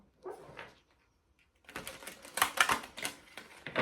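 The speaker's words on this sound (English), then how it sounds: "take those deep breaths as I'm shuffling, just a couple more shuffles here" Tarot cards riffle and flutter in quick papery bursts, a brief shuffle, then a short pause, then a longer run of crisp snapping shuffles, close and fairly loud.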